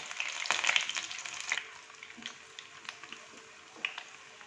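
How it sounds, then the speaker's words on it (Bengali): Spinach fritters dipped in gram-flour batter sizzle gently in hot oil over a low gas flame, a soft steady frying crackle that starts a little louder and settles into quieter bubbling. "ডুবিয়ে নিয়ে তারপরে ভাজবো গ্যাসটাকে কম করে দিতে হবে"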